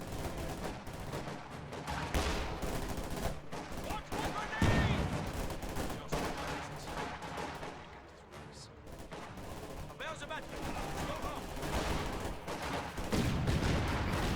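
Dense battle noise from Company of Heroes 2 as a grenade volley lands amid steady gunfire and rattling bursts, with muffled blasts layered throughout and a voice talking over the action.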